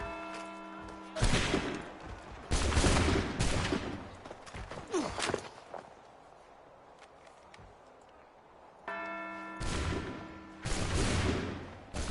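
Musket volley gunfire in Assassin's Creed III, with several loud crackling bursts of massed shots in quick succession, a lull, then more volleys near the end over a steady tonal game hum.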